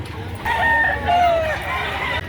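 A rooster crows in one fairly loud, drawn-out call at a livestock auction market selling chickens, rising then tailing off, over a low background murmur of people.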